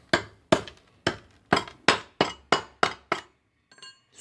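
A hammer taps a weld bead to knock off slag: eight sharp metallic knocks in a fairly even rhythm, close and loud, followed by a couple of faint tinkling clinks.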